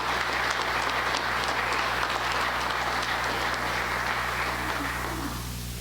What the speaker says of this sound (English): please give them a warm applause for their hospitality